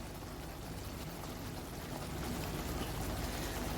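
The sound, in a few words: pouring first coconut milk into fish curry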